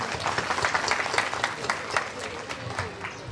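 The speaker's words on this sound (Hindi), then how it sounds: "हमारे मुख्य अतिथि जी के लिए एक बार जोरदार तालियां हो जाए" Audience applause for the chief guest at a school annual day function, a steady wash of many hands clapping with distinct individual claps standing out, continuous throughout.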